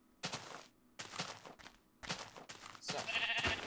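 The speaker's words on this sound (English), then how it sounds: "Yeah. Sheep." Sheep bleating in the blocky video game Minecraft, several short bleats with pauses between them, fairly close, ending in a denser stretch of game sound.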